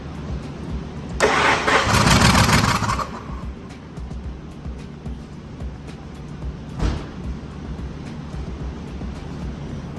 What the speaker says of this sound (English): Now we're going to crank the motor over and